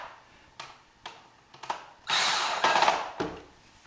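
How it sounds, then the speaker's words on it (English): Hand-tightening the last screws on the end of a retractable frame, with a few sharp clicks and knocks followed by a louder burst of ratcheting screwdriver whirring, close up, with no talking. "so we're just finishing putting on the last screws to tighten up the 5 on the end"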